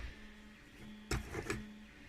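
A 3D printer works on a part in the background of a robot-building workshop, giving a faint steady hum with a thin tonal whine and a few brief louder clicks and motor movements.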